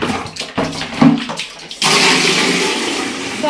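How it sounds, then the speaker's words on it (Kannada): Tap water runs into a bucket at home. A few knocks and splashes come first, then a steady, loud, hissing gush of running water fills the rest. "ಏನು ಮಾಡೋಕ್ಕಾಗಿ ಅದಕ್ಕೆ ಬಕೆಟ್ ಎಲ್ಲ ತುಂಬಿಸ್ತಾ ಇದ್ದೀನಿ."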